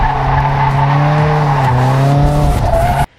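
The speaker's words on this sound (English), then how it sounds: "Realistically, I just use this car to drift." A Nissan Silvia S15 drifts with its tyres squealing in a loud, sustained howl over a steady engine drone, the pitch wavering slightly before cutting off abruptly.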